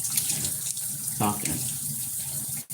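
Shower water runs steadily in the background while a person talks over it, with a brief splash or change in flow near the middle and an abrupt cut at the end.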